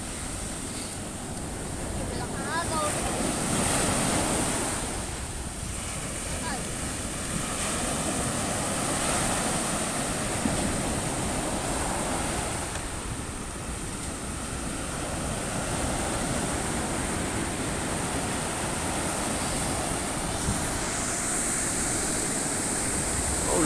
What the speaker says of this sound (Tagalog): Laki ng alon na.